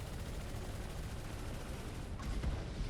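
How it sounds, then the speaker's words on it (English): Missiles launched in a sci-fi video game, a steady rumbling barrage of blasts with a sharper burst of launches near the end, moderately loud throughout. "Get some missiles off."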